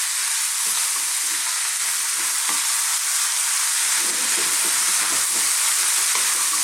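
Beans stirred in a sizzling pot of vegetable chili, a constant frying hiss with faint scraping and soft bumps of the spoon underneath; no talking.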